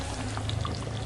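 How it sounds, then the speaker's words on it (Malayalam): Curry leaves go into a sizzling pan of chicken curry, a dense, even hiss and crackle of frying heard close up with no voices over it. "നമുക്കിതിലേക്ക് കറിവേപ്പില ഇട്ട് കൊടുക്കാം."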